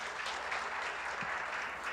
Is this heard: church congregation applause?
yes